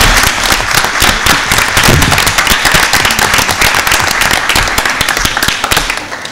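Attendees at a board of education meeting give guests a loud, dense round of applause, steady throughout and fading slightly at the close.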